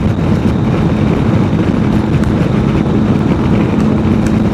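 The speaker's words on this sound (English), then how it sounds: "I'm getting battered by the wind here" Strong wind buffets the microphone, a loud, constant low roar and rumble with no break, drowning out everything else and with no one speaking.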